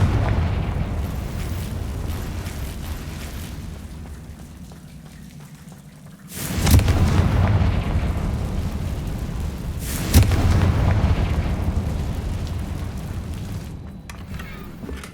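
Two heavy blasts from the Confringo explosive spell in the video game Hogwarts Legacy, about four seconds apart, each a sudden loud boom that decays slowly over low ambient game rumble.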